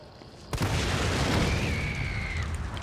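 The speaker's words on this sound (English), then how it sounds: "This is the explodey type of barrel?" An explosive barrel blowing up in the Resident Evil 3 Remake video game, one sudden loud boom followed by a sustained roaring rumble and ringing that lingers without fading.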